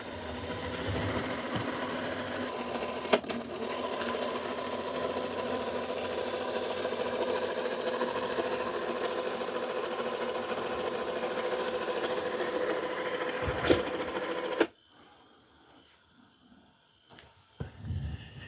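A Shark Stratos robot vacuum's steady mechanical whirring and churning while washing its mop and auto-emptying its dustbin runs for a long stretch, then cuts off abruptly, leaving a quiet room with faint clicks.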